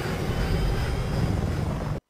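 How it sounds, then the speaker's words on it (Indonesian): Military Apache helicopters roar overhead as a loud, continuous, heavy rotor and engine drone, cutting off abruptly. "3 helikopter Apache dikerahkan dalam misi ini."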